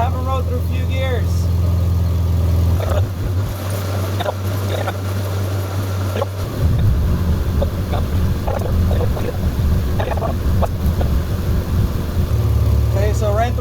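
The engine of a 2006-2011 BMW 328i hums close by as it is run through the gears during a transmission fluid change. The tone drops and changes abruptly at a couple of points as the gears change.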